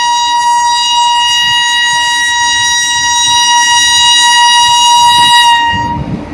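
A large electric passenger train sounds a loud, sustained horn as it arrives along the track, with the low rumble of wheels and engine steady underneath.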